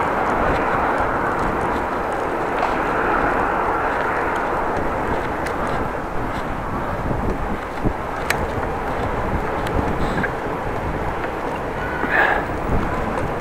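Headwind buffets the microphone of a bicycle riding through the streets of Groningen, a loud, continuous low rumble of wind noise that swells and eases slightly, with faint clicks and knocks.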